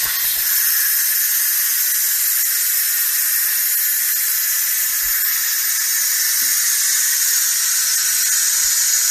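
Pressure cooker steam is vented after cooking beans: a loud, continuous hiss that holds steady for the whole stretch, with no talking.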